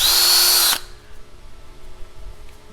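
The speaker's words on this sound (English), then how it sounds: "This is called drill reaming. And that makes the hole exactly the same size as the drill." A power drill reaming a hole in plastic: a loud high whir lasting under a second, then stopping abruptly, leaving a quiet room hum.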